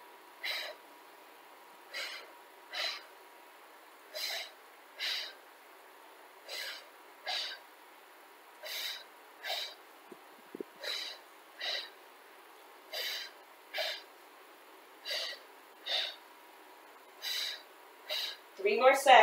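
Breathing during a Pilates exercise comes as a long regular series of close, airy breath bursts, roughly one every second, each inhale and exhale separated by quiet, with no talking.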